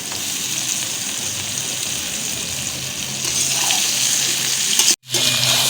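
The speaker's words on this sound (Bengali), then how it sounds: "আলুর সাথে এগুলো ভালো করে একটু ভেজে নেব।" Chicken feet fry with potatoes in oil in a loud, dense, continuous sizzle heard up close, swelling slightly and cutting out briefly near the end.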